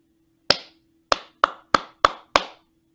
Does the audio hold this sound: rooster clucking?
no